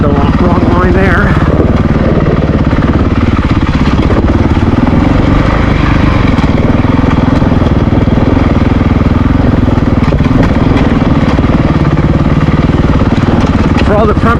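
A Honda CRF450RL dirt bike descends a steep, rocky trail, its engine droning loud and continuous under engine braking with rough, rattly trail noise. The rider talks over the sound throughout.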